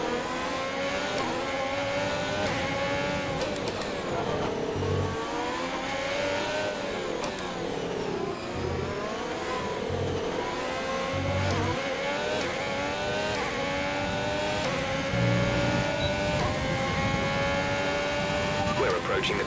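An F1 race car engine in the video game F1 2020 revs high and continuously, its pitch rising and falling through gear changes, with someone talking over it at times.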